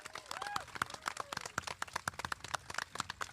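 Applause for graduating eighth-grade students at a school promotion ceremony, a steady patter of handclaps from a crowd, moderately loud, with faint voices mixed in.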